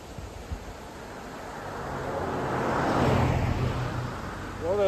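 A car approaches and passes on an open road beside a hitchhiker, its tyre and engine rush swelling steadily to a broad peak and fading, with wind noise throughout and a voice starting at the end.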